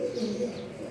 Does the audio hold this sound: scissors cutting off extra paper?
no